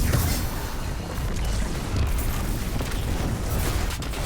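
A video game explosion in Destiny 2 gives a loud, dense, rumbling roar that holds steady for several seconds, with crackling debris spread across the blast and no voices over it.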